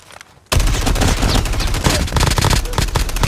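Rapid automatic gunfire in the mobile shooter game Call of Duty Mobile, a loud dense burst of shots that bursts in abruptly after a quiet moment and keeps rattling without pause.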